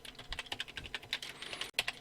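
Fingers type on a computer keyboard with quick, light, irregular key clicks, then a short pause and a few more taps. The sound is close and faint, and no one speaks.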